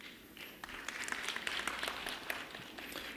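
An audience at a church seminar breaks into applause, a dense, even wash of many hands clapping for a few seconds at a steady level.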